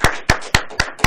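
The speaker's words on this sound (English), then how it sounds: "Let's give our Toastmaster for this evening a round of applause." Audience applause for the Toastmaster at a Toastmasters club meeting, heard as five distinct, evenly spaced claps over about a second, close and fairly loud with no talk.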